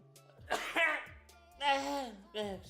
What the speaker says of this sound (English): I tried to mute the mic before I sneezed